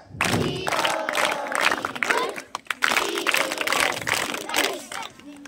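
A group of schoolchildren at a practice exam session claps together in rhythm, loud and close, with voices shouting and chattering over the applause throughout.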